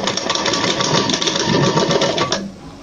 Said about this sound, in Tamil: இப்போ நம்ம ஒரு பக்கம் மடித்து தைக்கிறோம்.